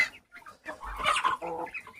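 A rooster clucks in short, scratchy bursts at moderate distance, with faint background noise between the calls.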